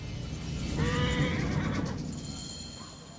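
A horse whinnies with a shaky, descending neigh over a dense backdrop of ambient noise and low rumble in Assassin's Creed Origins.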